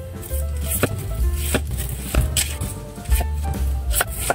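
Onion being chopped on a cutting board, a run of knife strikes spaced at irregular intervals, close and fairly loud, with a steady low hum underneath and no talking.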